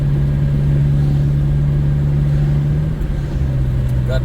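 Failing alternator on a 2009 Pontiac Vibe giving a steady, supercharger-like whine that holds a constant pitch over a loud, continuous engine rumble nearby.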